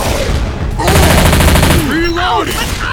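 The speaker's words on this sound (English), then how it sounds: "Why are you shooting me?" Rapid automatic gunfire in Left 4 Dead 2 rattles loudly through the middle of the clip as a dense, sustained burst, with voices and game noise before and after it.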